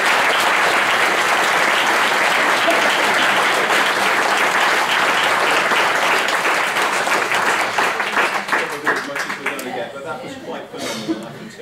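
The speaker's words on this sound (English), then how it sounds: "So I'd like to give him a round of applause." An audience at a school leavers' performance claps loudly in sustained applause that thins into scattered claps near the end, with brief laughter and voices mixed in.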